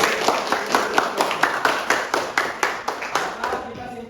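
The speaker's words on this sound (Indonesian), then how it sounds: "Ya, tepuk tangan untuk kita semua." A class claps hands together in a steady, even rhythm of sharp, loud claps, about four per second, continuing throughout with little variation.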